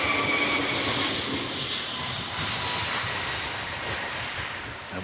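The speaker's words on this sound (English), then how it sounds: "Taking off now, this is from Airbus, the A321XLR, extra long-range aircraft." An Airbus A321XLR extra long-range jet takes off at an airshow display, its engines producing a loud, steady broadband roar that holds throughout and eases slightly toward the end.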